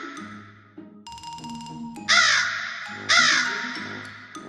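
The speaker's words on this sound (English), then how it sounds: "the crows had moved from the field to the roof of his house" Harsh, loud crow caws ring out in two bold bursts near the middle, preceded by softer calls and a bright tonal chime.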